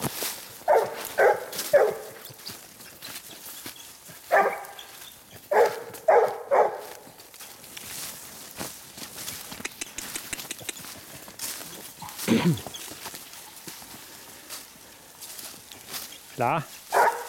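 A female hunting dog giving tongue on the trail in short bursts of two or three barks, loud at first then sparser and fainter, amid rustling brush and scattered footsteps outdoors.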